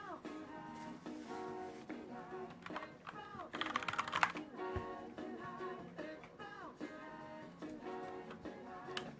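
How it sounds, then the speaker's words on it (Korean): Fast, steady clacking of keys on a computer keyboard, close and crisp, with a busier flurry of strokes midway and no voices. "타자 소리 여러분들 좋다고 해가지고 그냥 막 쳐본 거예요."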